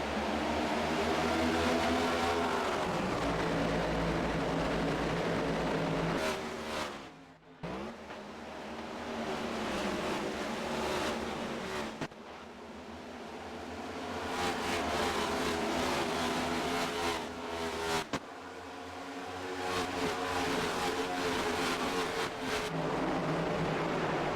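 A pack of race cars accelerating at a green flag restart in the HTL Miami 350 race: a loud, sustained engine roar with swelling revs that rises and falls as the cars pass.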